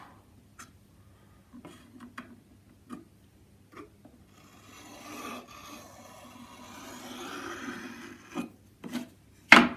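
A scalpel trims excess wood on a guitar build, with a few soft scattered ticks and taps followed by a longer faint scraping rasp, close and quiet, ending in a sharper click.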